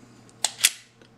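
Dry-fire trigger pull on a Smith & Wesson M&P Shield 9mm pistol with an upgraded trigger: a soft click followed by a sharper, louder snap of the striker, close and alone, then quiet.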